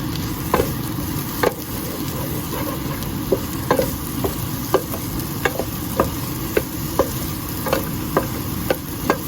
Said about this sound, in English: So the half tomato is gonna go in. Saute it.